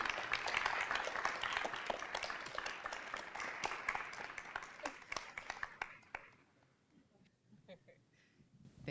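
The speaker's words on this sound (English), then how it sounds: "I just wanted to have everybody give a round of applause and thanks to Elizabeth" Applause rises from an audience at a school of communication student celebration, a dense steady patter of many hands that fills the room, then thins to scattered claps and fades out over the last few seconds.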